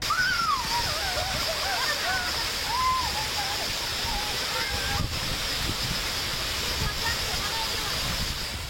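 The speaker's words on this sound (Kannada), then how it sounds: "ಭಾರೀ ಮಳೆ, ದುಮ್ಮಿಕ್ಕುತ್ತಿವೆ ಜಲಪಾತಗಳು." A waterfall gushing after heavy rain in Karnataka, a loud continuous roar of rushing water with a voice speaking over it.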